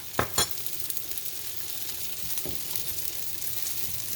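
Meatloaf pan frying in a skillet, a steady soft sizzle throughout, broken early by two quick scraping clatters and one later knock of a utensil against the pan.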